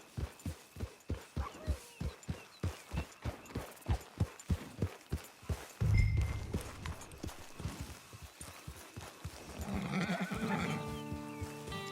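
A horse trots with a steady, rhythmic clip-clop of hooves in the Red Dead Online video game, then gives a loud neigh and snort midway, followed by more hoof movement and a tonal musical swell near the end.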